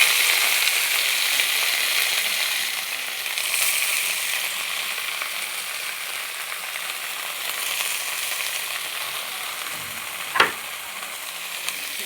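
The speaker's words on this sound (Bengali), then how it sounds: "রসুনটা ফোড়ন হয়ে গেছে, এবার শাকগুলো দিয়ে দেবো।" Helencha greens fry in hot oil after a garlic tempering, giving a continuous close sizzle that rises and falls gently. A single sharp utensil knock stands out near the end.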